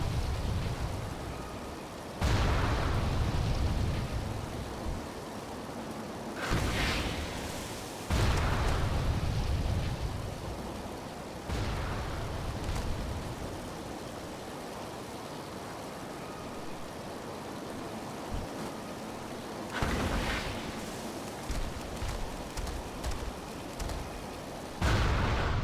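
Enemy gunfire and heavy impacts hitting the player's craft in World of Warcraft's Goblin starting zone, loud booming bursts breaking out every few seconds over a steady rumbling roar.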